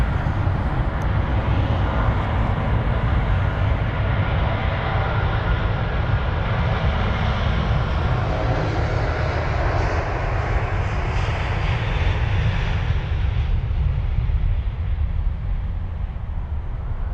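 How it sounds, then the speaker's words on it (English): American Airlines Boeing 777-200ER jet passing at Heathrow with a deep, powerful engine roar, heavy low rumble and hissing high end, loud and close throughout before easing slightly at the end. "flight number AA731, the American Airlines Boeing 777-200ER with the reg November 768 Alpha Alpha off to Charlotte"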